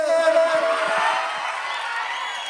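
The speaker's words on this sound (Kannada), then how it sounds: "ಬರಲಿ ಒಂದು ಜೋರಾದ ಚಪ್ಪಾಳೆ." Festival or concert crowd at a music show in Dharwad cheering and whooping as singers take the stage, a dense sustained roar of voices with whistles, loud and close throughout.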